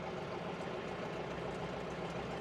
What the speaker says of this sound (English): get the tractor running, get the PTO running